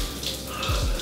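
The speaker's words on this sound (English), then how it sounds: "And then a cold shower." Water runs from a cold shower in a steady, close, hissing stream for about a second, with no talking.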